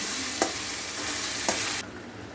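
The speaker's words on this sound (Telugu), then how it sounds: "వేసుకొని కొద్దిసేపు బాగా వేగనివ్వాలి. ఇలా మధ్య మధ్యలో కలుపుతూ ఉండాలి." Food fries in a pan with salt added, making a steady sizzle. Two brief stirring scrapes break through before the sizzle suddenly drops quieter near the end.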